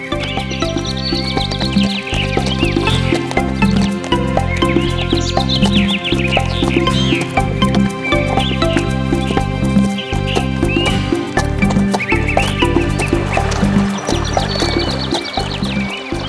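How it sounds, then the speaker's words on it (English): A cartoon horse crossing a river makes clip-clopping hooves in a steady, regular beat over a loud musical background, with whinny-like neighs rising now and then. "The horse was crossing the river."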